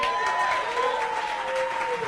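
A studio audience claps in a steady, dense wash of applause that stays even in loudness throughout, with a faint voice or tone running beneath the crowd.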